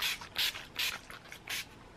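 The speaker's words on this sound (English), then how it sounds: "I'm going to finish off the look by applying some fixing spray" Primed and Ready makeup setting spray misted from a pump bottle, four or five short close hissing bursts in a quick, slightly uneven rhythm.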